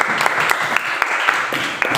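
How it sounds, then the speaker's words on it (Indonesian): Audience clapping for a student group during a classroom presentation session, a steady wash of many hands with sharper individual claps standing out, fairly close and alone for the whole stretch. "Tepuk tangan untuk kelompoknya Edmund."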